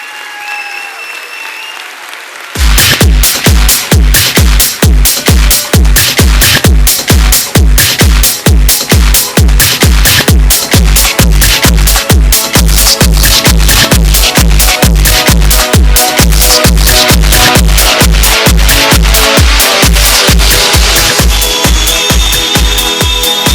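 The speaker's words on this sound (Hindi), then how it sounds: "जोरदार तालियां" Loud, sustained applause from a large audience at an LIC agency awards event in India, dense clapping that starts abruptly after a quiet moment and continues steadily, with occasional crowd noise.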